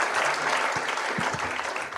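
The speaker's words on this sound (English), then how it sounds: "Round of applause, ladies and gentlemen." An audience at a CEO roundtable discussion applauds steadily, a dense, full wash of clapping from many hands that holds evenly from start to finish with no talking over it.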